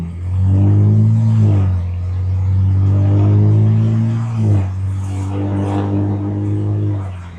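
BMW 335i driving with the engine downshifting, a loud low droning engine note with a clear drop in pitch midway, then settling into a steady cruise hum.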